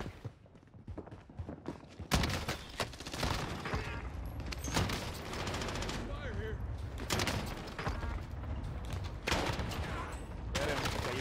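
Shotgun blasts in the Call of Duty: Warzone video game ring out in a rapid series of loud, sharp bursts mixed with gunfire and in-game noise, with talking around them.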